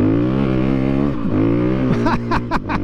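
A 2022 KTM 350 EXC-F dual sport motorcycle engine revs hard nearby, its pitch swooping up and down through several throttle blips as it rides.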